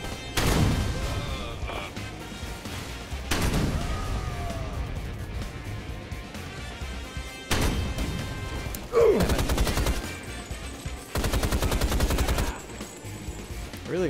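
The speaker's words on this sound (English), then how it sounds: "That's why sometimes you see me shooting corpses." Gunfire rattles out in Rise of the Triad as corpses are shot, several loud bursts of rapid automatic fire with heavy impacts between stretches of game sound and music.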